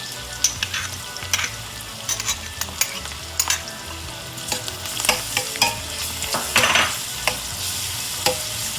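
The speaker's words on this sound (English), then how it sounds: "I'm going to let the onions saute for about a minute or two, and then I'm going to add the garlic to the pot." Onions and garlic sautéing in a pot for a salmon fish stew, with a steady sizzle broken by scraping stirs of a utensil against the pot, close and alone.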